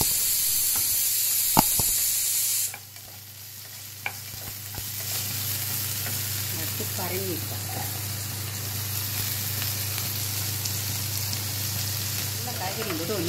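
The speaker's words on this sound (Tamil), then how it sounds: "காய்கறி போட்டு ஒன்று வதக்கிறேன்" Onion, potato and carrot sautéing in a pan for home-style tiffin sambar: a loud hiss drops to a steady close sizzle after a couple of clanks at the start, with occasional spoon scrapes and stirring over a constant background hum.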